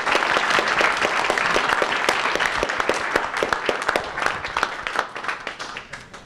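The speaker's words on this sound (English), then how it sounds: "Everybody, could you please give our panelists a round of applause?" Audience applause for a panel at an MIT evening program, a dense sustained round of many hands clapping close and loud, thinning slightly toward the end.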